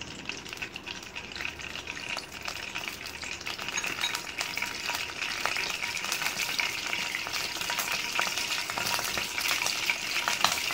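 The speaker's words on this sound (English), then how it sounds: "First we'll heat the kadai, then we'll add ghee to it." A kadai heats with ghee on the stove, giving a continuous close sizzle and crackle with occasional light metallic clinks, steady and unbroken throughout.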